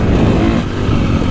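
A KTM 450SXF Factory Edition dirt bike engine on dry hard-pack, set to minimum throttle response and engine braking, a loud close single-cylinder drone running steadily with slight pitch wobble and no talk.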